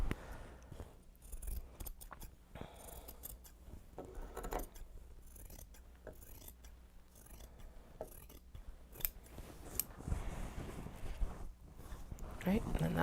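Fabric scissors snip repeatedly while side seams are trimmed on Japanese fabric tote bags, a run of close, crisp cuts with rustling cloth in between and a little talk now and then.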